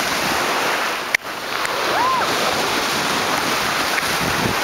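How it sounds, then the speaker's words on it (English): Atlantic Ocean waves wash steadily in the Bahamas, a broad surf roar heavily mixed with wind buffeting the microphone, and a sharp bump early on. "I think this is the Atlantic Ocean"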